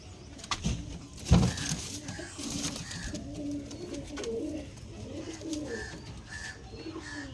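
Punjabi pigeons cooing at close range with soft repeated calls, alongside rustling and faint background noise, and a brief louder knock early on.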